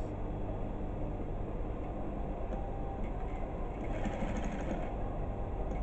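A sewing machine runs continuously through the whole stretch, a steady mechanical whir with no breaks and no voices over it.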